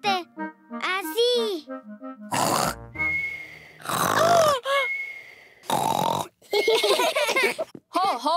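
A cartoon pig imitates loud snoring with exaggerated grunting snorts and oinks, broken by a child-voiced cartoon character speaking, bursts loud and close with short pauses between.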